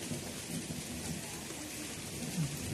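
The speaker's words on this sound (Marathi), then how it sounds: "ढगबी वाजत आहे आणि छान असा हा पाऊस पडत आहे." Rain falling steadily with a low rumble of thunder beneath it during a monsoon shower, a soft continuous wash of drops with no talk.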